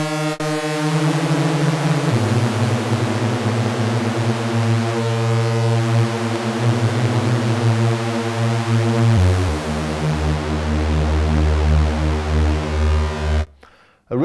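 A Prophet 600 synthesizer plays all six voices at once, detuned into a loud, harsh, wavering chord that shifts pitch several times, sustained for about thirteen seconds before cutting off.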